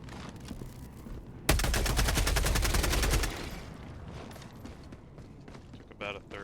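Rapid automatic gunfire in Helldivers 2, one dense burst of about two seconds, loud and close, followed by quieter game sounds and talking.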